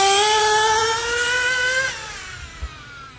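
A Team Durango Bonito RC boat's engine revs up hard with a rising whine, pulls away and fades toward a lower drone as the boat takes off.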